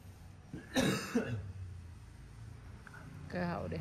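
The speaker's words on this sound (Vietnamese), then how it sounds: "cơ hội để ho luôn." A person coughs a couple of times close by during a saline skin-cleansing acne treatment, with short voiced bursts over a low room hum, followed by a quieter pause and another throaty sound.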